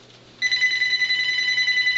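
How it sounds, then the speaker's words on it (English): A telephone starts ringing abruptly and holds a loud, steady electronic trill close by, with no talking over it. "Hey, the phone's ringing"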